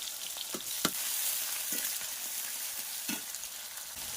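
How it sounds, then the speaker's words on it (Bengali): Chopped onion and garlic frying in a pan in a Bengali village kitchen, where sugar has already caramelised red in the oil, giving a steady bright sizzle with a few sharp scrapes and pops. "এবারে দিয়ে দেব পেঁয়াজ কুচি আর সাথে দিয়ে দেবো রসুন"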